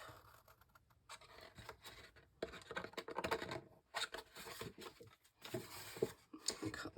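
Scissors cut card for a pouch gift box, close, quiet snipping and scratchy cutting strokes in irregular bursts, with no talking.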